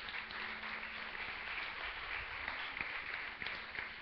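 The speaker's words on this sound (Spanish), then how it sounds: "Denle un aplauso al Señor de señores." Moderately distant applause from a Sunday church congregation, an even wash of many hands clapping with a few sharper claps standing out, fairly quiet throughout.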